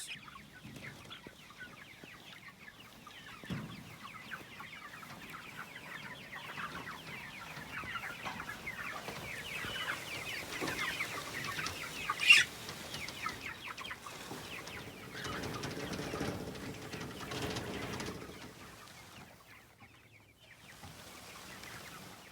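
Chickens cluck and murmur continuously in a busy coop, with occasional rustling and a sharp squawk partway through, no talking.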